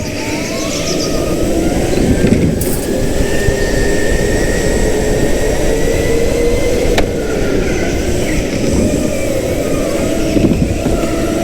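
Go-kart engine driving on a Boss Pro Karting track, a loud steady broadband drone with shifting pitch throughout, no speech heard.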